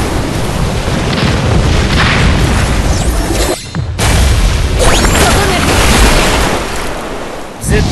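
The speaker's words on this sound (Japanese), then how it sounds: "連続一点集中爆破だ" A focused explosion jutsu in Naruto Online Mobile sets off loud, roaring booms in quick succession, a heavy continuous blast that breaks off for a moment before rumbling on.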